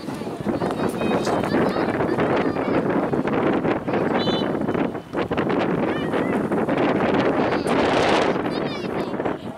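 Wind buffets the microphone steadily beside a youth women's U11 football pitch, loud and continuous, with players and spectators shouting and talking throughout.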